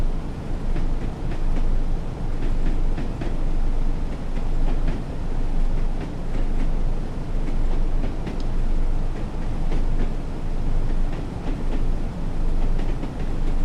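Train Sim World 3 recreates a train running on the Tees Valley Line: a loud, continuous rumbling roar with rhythmic clickety-clack of wheels over rail joints repeating throughout.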